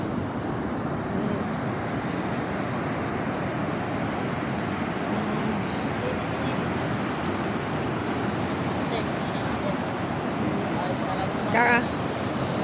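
Continuous rushing surf of sea waves washing on a shore, with wind buffeting the microphone and faint voices underneath.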